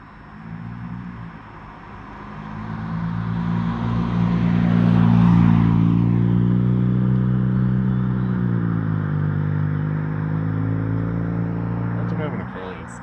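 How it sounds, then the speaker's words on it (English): A car approaches and passes with a rising and falling engine and road rumble, loud and close, while people talk over it. "We got another car coming at us."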